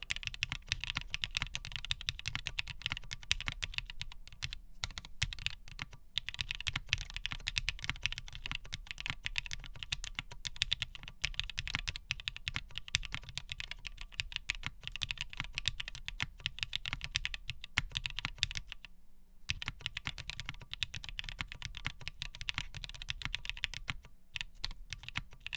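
Fast, continuous typing on a custom-built Tomo keyboard with CRP keycaps and O-rings gives a dense patter of soft keystrokes for about 25 seconds, with only a few brief pauses.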